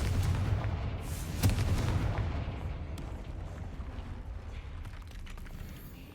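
A Confringo fire spell goes off in Hogwarts Legacy, a heavy booming blast with a sharp crack near the start and then a long rumbling roar that slowly fades.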